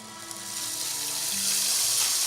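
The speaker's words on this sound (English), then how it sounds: "I'm going to pour down into that water." Two cups of Mahatma long grain rice poured into a pot of boiling water on a home stove, a steady rushing hiss and patter that swells slightly and holds close and fairly loud, with no talking.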